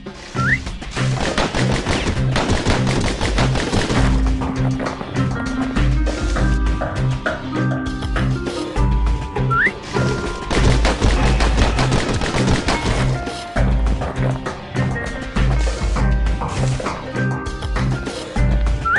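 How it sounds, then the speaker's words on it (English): Pistol shots ring out in Bastion, a quick string of sharp cracks laid over a constant bed of music and game sounds, loud and close throughout. "Those pistols could spit out rounds just as quick as you could pull the trigger."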